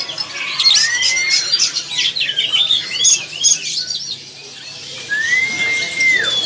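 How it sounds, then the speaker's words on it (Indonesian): A caged oriental magpie-robin (kacer), just uncovered, gives scattered chirps, squawks and rising whistled notes, fairly close, with short gaps between bursts. "Ini burungnya baru dibuka kerodongnya"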